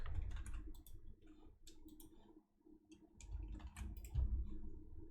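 Clicking of a computer keyboard and mouse at a desk while working in Marvelous Designer software, with a burst of key taps, then a pause, then more taps and a sharper click near the end, close and fairly quiet.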